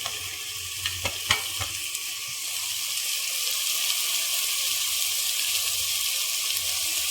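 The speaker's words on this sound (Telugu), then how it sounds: "ఆ తర్వాత టమాటా ముక్కలను కూడా వేసేద్దామండి." Tomato pieces drop into a frying pan, with a few sharp clatters up front, then a steady soft sizzle building and holding alone.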